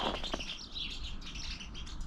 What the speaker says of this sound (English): listen to the birds. Wow, they're fighting or something.